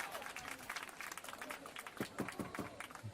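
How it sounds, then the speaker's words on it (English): Badminton crowd in an arena applauding and cheering, a dense continuous wash of clapping and voices at moderate distance, with a commentator talking over it. "the crowd is cheering and there's a lot of noise out here"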